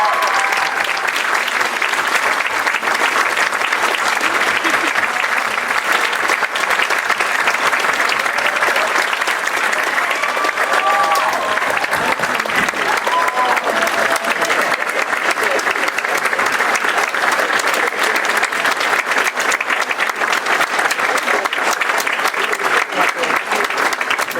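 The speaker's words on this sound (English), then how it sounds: "Give him a round of applause" A gala audience at the 2015 NBCT Volunteer Gala claps for Jim Sittig in a steady, dense round of applause that carries on loudly and evenly for over twenty seconds.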